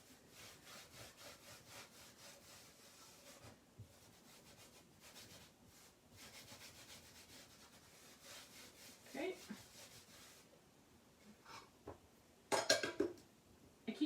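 A rag rubs protective wax onto a painted sled in quiet, repeated scrubbing strokes, faint and close, with a few sharper knocks near the end.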